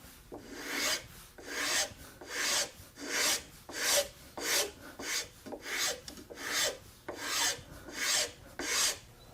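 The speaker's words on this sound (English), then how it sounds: "the lines help me see where I'm hitting and not hitting if I'm holding the float horizontal" A woodworking float rasps wood at a three-legged stool joint in about a dozen steady, rhythmic strokes, each a crisp scraping pass heard close and alone.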